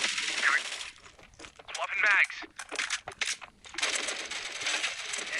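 Weapon fire in the mobile first-person shooter Matr1x Fire comes in loud, rapid automatic bursts separated by short gaps.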